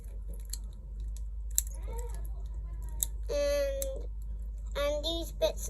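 An infinity cube fidget toy gives short, thin squeaks in small bursts amid faint clicks and handling noise, quiet and close, with a voice murmuring at one point.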